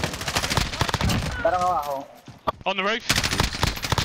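Call of Duty Warzone gunfire: loud bursts of automatic fire crackle through most of the stretch, pausing briefly while a voice speaks, then resuming in rapid volleys.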